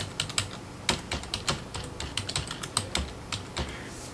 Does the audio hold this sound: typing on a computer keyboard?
yes